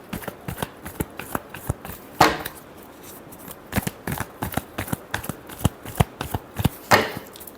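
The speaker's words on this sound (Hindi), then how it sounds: "Last shuffle." Tarot cards are shuffled in rapid riffling bursts, a string of sharp crisp flutters with brief pauses between them, close and clear with no talking.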